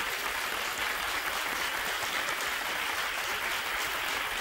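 Studio audience applause for a contestant on a Spanish television game show, a steady wash of many hands clapping at moderate, somewhat distant volume, with no speech over it.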